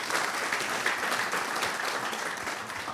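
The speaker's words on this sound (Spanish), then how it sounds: "un aplauso por favor para la doctora" Audience applause for a woman doctor being introduced as keynote speaker at a forum on sargassum seaweed, a dense, steady wash of many hands clapping throughout, fairly distant and even in level.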